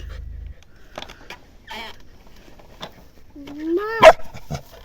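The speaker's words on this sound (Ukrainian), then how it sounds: "Чого гавкаєш на мене, я питаю?" Dog barking and yipping outdoors, a few short barks and a whimpering yelp near the end, alongside someone talking.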